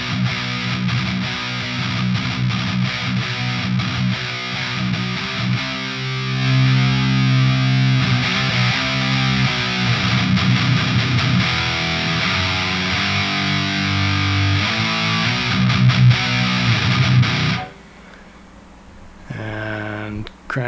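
A Schecter Banshee Mach 7 guitar through a Master Effects Marauder pedal set lower plays a loud, thick distorted riff with chugging low notes for most of the stretch, then drops to a quieter, thinner passage near the end.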